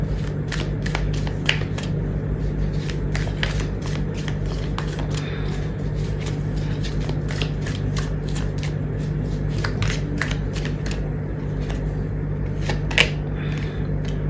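Tarot cards shuffled by hand in a steady stream of crisp riffling clicks and flutters, close and fairly loud, running the whole time over a constant low hum, with no talking.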